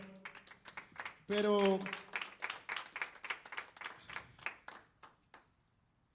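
A church congregation claps in steady rhythm for the Lord during a Spanish-language service, a long run of even, fairly close claps that fades toward the end while a voice speaks briefly over it.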